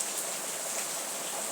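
Light rain begins falling on an evening walk, a soft, steady hiss of drops on surfaces, faint and even, with no voices.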